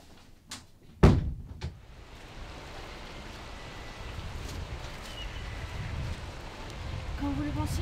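A door shuts in the French adventure game Kate et le trésor des templiers, a single solid thud preceded by a couple of faint knocks, followed by a soft, steady rain-like background wash.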